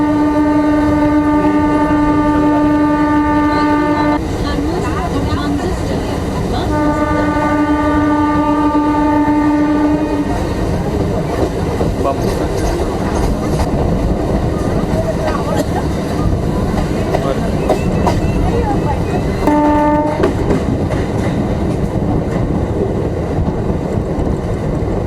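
A passenger train out of Bilaspur rumbles steadily as its horn sounds in long, loud blasts, with a shorter blast near the end and voices talking faintly throughout.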